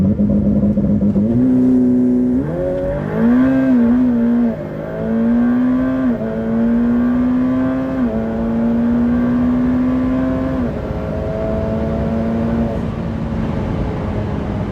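A Ferrari F8 Tributo is driven on an empty road at night, its engine droning steadily from inside the car and rising and falling through several gear changes and revs for about fifteen seconds.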